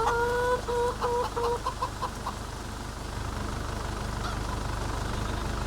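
Chickens in a video game cluck and squawk in short repeated bursts at the start, then settle into a steady low background hum.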